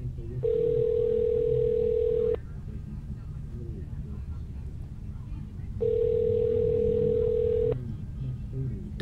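A phone's outgoing ringback tone repeats while calling someone at night, two long steady electronic rings separated by a pause, clear and fairly near over a low background rumble and faint voices.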